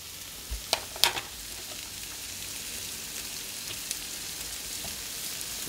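Shallots frying in a pan as the base for a butter sauce, a steady sizzle with a few sharp clatters of utensils at the start, then continuous crackling.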